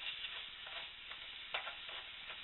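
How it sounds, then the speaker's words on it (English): Ground turkey sizzles in a hot pan on the stove while a spoon stirs and breaks it up, giving a steady crackling fry with soft scraping knocks and no talk. "my pan is already hot, so we're going to just let that fall into the pan"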